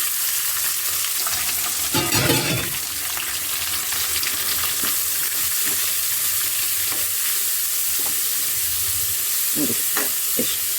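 Carrots sizzling in a hot pan with oil while making shavige bath, a steady close frying hiss broken by scraping stirs and a few clinks of the spoon against the pan.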